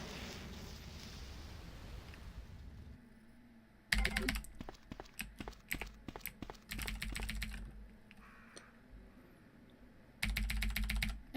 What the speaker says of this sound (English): I also apologise for the amount of clicking that you will hear during the game